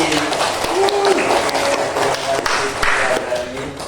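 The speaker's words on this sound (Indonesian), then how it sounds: "terima kasih, tepuk tangan pada Rizky." Students in a classroom applaud a classmate during a teaching practice session, a busy burst of clapping mixed with overlapping voices and chatter in the room.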